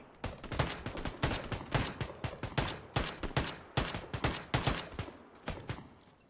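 Repeated gunfire in PlayerUnknown's Battlegrounds, a burst of rapid sharp shots fired in quick irregular clusters, loud and close, running steadily for several seconds with no talking.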